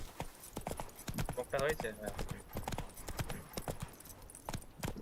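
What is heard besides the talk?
horse Roach galloping hooves in The Witcher 3 video game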